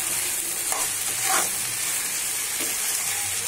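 Fried chicken is stirred into tomato sauce in a hot pan for a restaurant-style dragon chicken, a loud steady sizzle with a few scraping stirs, close and with no voices.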